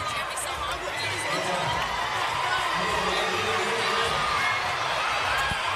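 Crowd noise from about 1,400 spectators at an under-19 men's all-star basketball game at Crystal Palace National Sports Centre, a steady, dense wash of chatter and scattered shouts filling the hall throughout.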